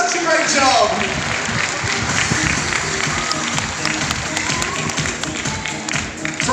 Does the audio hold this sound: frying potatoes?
no